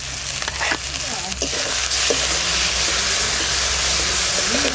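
Ginger-garlic paste, coriander and dried chilies sizzle loudly in a pan for a stingray fish curry, a steady broad frying hiss with a few clinks and stirring scrapes over a low hum.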